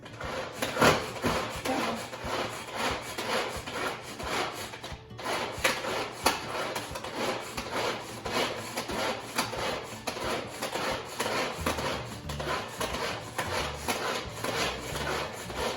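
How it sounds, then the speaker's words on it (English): An electric grinder whirs continuously as it chops onion pieces for shahi paneer, giving a close, steady buzzing with a fast rhythmic chopping texture throughout. "So we're gonna grind this."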